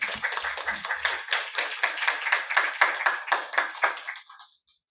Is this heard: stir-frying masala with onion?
no